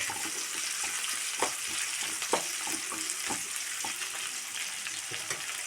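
Onion, green chilli, ginger and curry leaves fry in a pan for a chicken kurma, giving a steady broadband sizzle with a few scraping stir clicks, close and continuous, no talking.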